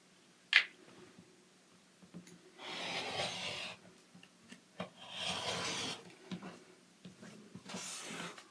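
Fabric sides of a quilt block being trimmed, heard as several bursts of rasping cutting and rubbing with short clicks between them, close and quiet in an otherwise still room.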